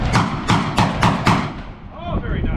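A Remington V3 Tac-13 shotgun fires double-aught buckshot at a steel target rack on a windy range, with five loud, rapid blasts about a quarter second apart, then a short pause filled with wind and faint ringing of struck steel.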